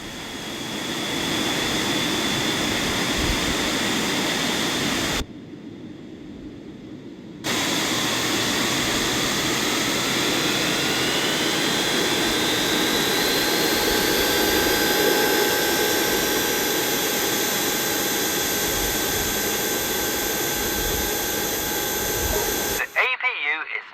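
An aircraft jet engine spooling up in the airport simulation game AirportSim, a steady broadband roar with a rising whine that climbs gradually, under a voice explaining the procedure, with a brief dropout partway through.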